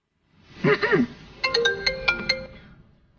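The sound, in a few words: phone ringing during an outgoing call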